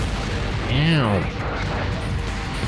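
Explosions in the mecha video game GunGriffon Blaze: a loud, continuous rumbling blast with a falling, whooshing tone sweeping through it, over dense background noise.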